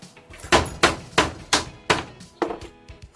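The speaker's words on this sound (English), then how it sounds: "I'm just going to try hammer a bend into them." Hammer blows bending small metal pieces for a tub rack canopy build, about seven sharp close strikes at a slightly uneven steady pace with short ringing decays between them.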